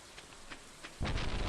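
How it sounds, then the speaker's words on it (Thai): Thunder crashes in the Stardew Valley farming game, a sudden loud rumbling burst after a second of steady rain, then continuing heavy and broad over falling rain with no talk. "โอ้โห ฟ้าผ่า"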